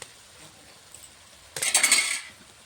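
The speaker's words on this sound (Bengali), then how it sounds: "আমি ঢাকনাটা খুলে দেখবো" A metal lid lifts off a pot of dal cooked with radish and flat beans, giving a short, close rattle and clink of about a second after near silence.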